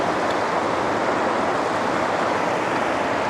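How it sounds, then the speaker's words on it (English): Creek water flowing at a crossing point gives a steady, even wash of rushing noise, close and fairly loud, with no voices over it. "we're going back across this creek"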